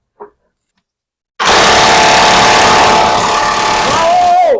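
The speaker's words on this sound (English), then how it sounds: "Is the drill tightening or slacking?" After a brief tap and a second of silence, a red power drill roars in on a bolt of a Triumph TR7's rear suspension, a loud, continuous rattling whir that rises in pitch near the end.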